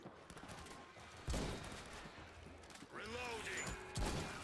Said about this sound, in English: Quad barrel shotgun.